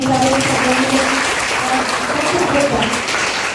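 An audience claps in a steady dense patter at a World Disability Day gathering of a library for visually impaired people. A voice talks over the applause throughout.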